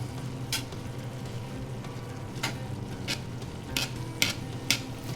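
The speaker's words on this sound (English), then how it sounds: "Give that a nice scrape in. Get it all in there. Mix that up a good bit." Italian sausage is scraped and mixed in a pan, giving several sharp utensil scrapes and clinks over a steady low sizzle, close and moderately loud with no talking.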